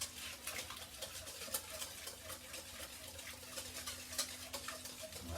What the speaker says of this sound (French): Je mélange.